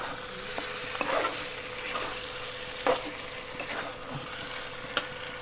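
Broiler chicken pieces fry in oil for curry, sizzling steadily while a spoon stirs and scrapes the pan with a few sharp knocks, heard close up with no talking.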